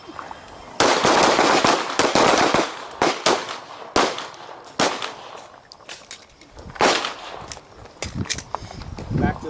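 Handgun shots fired one-handed at an outdoor practical shooting exercise ring out as a series of sharp, loud cracks spaced irregularly over several seconds, with shouted commands and voices between them.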